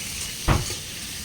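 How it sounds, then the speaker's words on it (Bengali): Arum root (gathi kochu) frying in a pan with salt, turmeric and green chilli, a low steady sizzle with one short sharp clatter of stirring or a pan knock. "এর মধ্যে এবারে নুন, হলুদ, কাঁচা লঙ্কা দেওয়া হবে, তারপরে ভাজা ভাজা করা হবে।"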